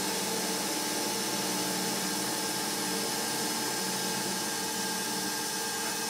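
A Reg Sherwin shear scraper made by Ashley Iles cuts a spinning piece of wood on a lathe, taking fine shavings near the centre, with a loud, steady, unbroken whirring hiss all the way through.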